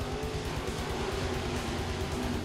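Dirt track race cars roar in a dense pack at the green flag, engines blaring loud and close with a steady, rapid pulsing throttle note and no voices.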